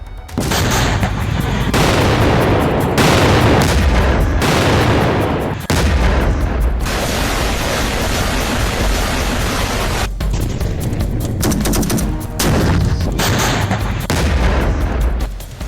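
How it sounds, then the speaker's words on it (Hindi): Israeli strikes on Gaza: loud, dense gunfire and heavy explosive booms fill the whole stretch in a continuous roar, with a few brief breaks and sharp cuts between bursts. "गाजा पर इजराइल ने फिर से बारूदी हमले तेज कर दिए।"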